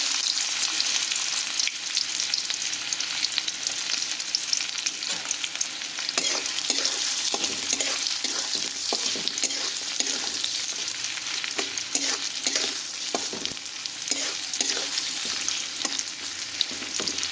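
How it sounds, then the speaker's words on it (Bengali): Onions sizzle and crackle steadily in a hot pan, with occasional stirring scrapes, continuous and close. "পেঁয়াজটাকে আমরা অল্প ভাজা করে নেব"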